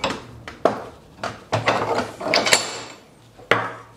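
Socket wrench work on a Land Rover Defender 110, with a series of sharp metallic clicks and clanks, several distinct knocks and a rattling burst, close and fairly loud, with no talk.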